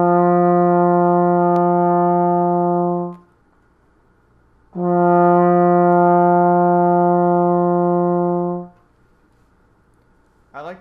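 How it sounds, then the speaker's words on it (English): A trombone holds a sustained low concert F, two long steady tones separated by a brief pause, loud and close with no other sound. "I like to then create sound with a very easy note, and I think it's a note that we probably are all familiar with,"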